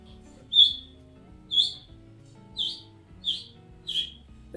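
A voice imitates a sparrow's chirp, giving five short, sharp, high tweets at roughly even intervals, moderately loud against a quiet background.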